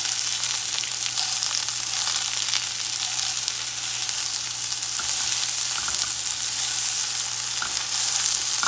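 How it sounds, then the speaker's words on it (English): Onions sizzle steadily in a hot pan, a constant bright crackling hiss with occasional faint stirring clinks, no voices. "is to get some onions frying"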